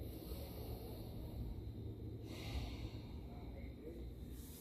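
Deep breathing during a yoga shoulder stretch: soft, slow inhales and exhales close by, a longer breath midway and another at the end, all faint and quiet.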